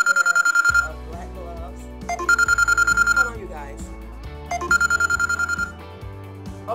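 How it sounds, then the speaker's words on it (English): A phone rings with an incoming call, its tonal ringtone repeating in three bursts of about a second each, loud and close, over a steady pattern in the lower register. "My phone keeps going off. Somebody's calling."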